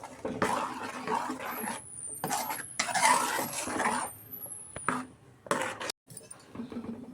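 A spoon stirs and clinks against a cooking pot as cooked jackfruit seeds are mixed into sambar, with intermittent scraping bursts and short pauses, close and moderately loud.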